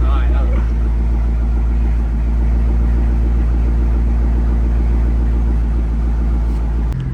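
A C6 Corvette with straight pipes idles with a steady, deep, loud rumble that runs throughout, close to the microphone, with no clear revving.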